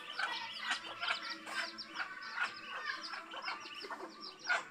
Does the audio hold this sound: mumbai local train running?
no